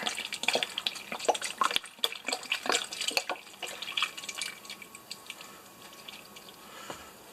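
Cream poured from a carton into a pot of corn chowder, a soft, close liquid pour with small drips and splashes, louder at first and trailing off to faint trickles.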